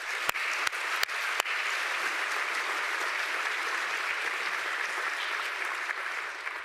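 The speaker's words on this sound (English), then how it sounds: "I would like us to give a round of applause to our staff" An audience at a school Students of the Month ceremony applauds the staff, a sustained even roar of many hands clapping, with a few sharp close claps standing out near the start.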